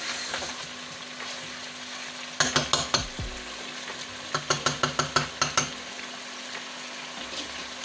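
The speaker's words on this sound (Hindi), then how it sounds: "अब हम इसको भून रहे हैं" Chicken pieces fry in a pan for a chicken qorma under a steady sizzle, broken by two bursts of rapid clattering stirs, close by and without voices.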